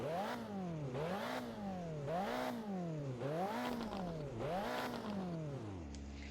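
A video game car, the Striker in Driving Empire, revs repeatedly, pitch rising and falling in about five even throttle blips, each swell followed by a drop, with no talking.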